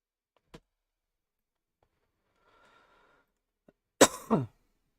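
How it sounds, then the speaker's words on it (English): A single short cough near the end, preceded by a faint isolated tick or two in near silence. "Sorry for coughing."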